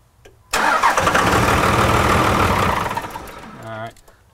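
A 2002 Dodge Cummins diesel pickup engine cranks briefly, then catches and runs loud and close with a rough clatter for a few seconds before dropping off, while a voice speaks over it.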